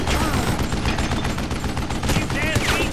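Gunfire in the Western shooter game Call of Juarez: Gunslinger, a dense barrage of rapid shots over a loud, busy mix of game effects, with someone speaking over the action.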